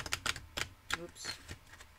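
Oracle cards being shuffled and handled on a cluttered desk, giving a run of quick, close papery flicks and taps in separate bursts, with no one speaking over them.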